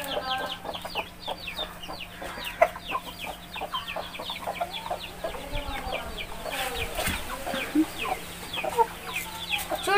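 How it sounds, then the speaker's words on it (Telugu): A hen and her chick, kept among backyard farm animals, cluck in short, irregular bursts over steady faint background hum, with scattered soft chirps throughout and no one talking. "చూడండి, ఇది ఒక పెట్ట, దాని పిల్ల మళ్ళీ గుడ్లు పెట్టి ఒక పిల్లని చేసింది."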